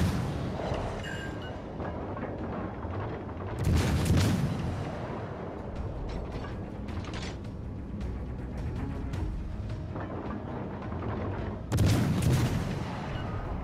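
Naval artillery from a warship in the World of Warships: Legends video game booms through a dense, continuous battle din, with two heavy salvos standing out around the fourth and twelfth seconds.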